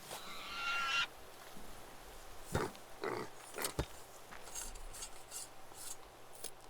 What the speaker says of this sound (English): Please, pig, just leave me alone.